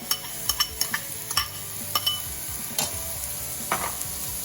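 Shredded carrots cooking in a pot for cauliflower soup, with a steady low sizzle broken by sharp scraping clicks of a utensil stirring against the pot, close and moderately loud, no voices.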